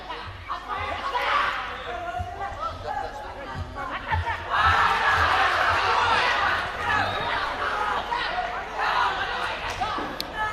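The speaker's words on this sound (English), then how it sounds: "the crowd making quite a noise" Crowd noise fills an amateur MMA youth championship venue, a murmur of chatter and cheering that swells and fades, with thuds and slaps from the action and a commentator's voice over it.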